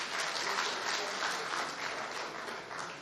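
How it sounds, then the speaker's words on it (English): An indoor crowd at an agricultural engineering opening ceremony in Ilorin gives a steady, dense round of clapping, heard from a distance at moderate volume. "Please, a round of applause for His Excellency."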